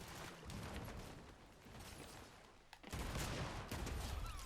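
Shotgun fire in the video game Fortnite, a dense run of game gunfire and blasts with a brief lull before a louder, closer burst near the end.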